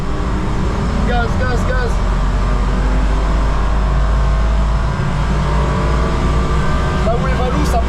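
A rented BMW circles the Nürburgring with its engine held at full throttle, a loud, steady drone with a heavy low roar filling the cabin, while brief voices rise over it now and then.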